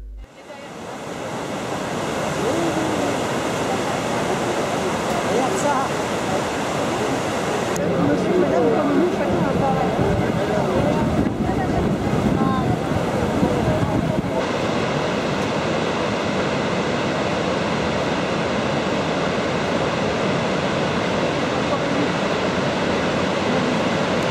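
The Iguazu falls in Brazil give off a dense, steady roar of rushing water that fills the scene from start to finish, loud and constant with wind buffeting the microphone and a voice speaking over it.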